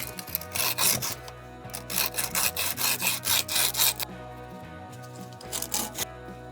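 Edges of a cut copper pipe being deburred with 120 grit sandpaper, a rhythmic raspy scraping in bursts of quick strokes, close and steady with short pauses between passes.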